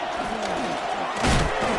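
Football stadium crowd roaring during a third-down play in a championship game, a dense, steady wall of cheering that swells louder near the end, with faint commentary-like voices mixed in.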